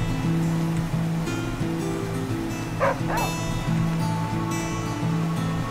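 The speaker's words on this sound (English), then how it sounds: "Dog, why do you keep barking?" In the survival video game The Flame in the Flood, a dog barks and yips repeatedly at mid-distance over a constant droning music and water backdrop, with a brief louder splash-like sound near the middle.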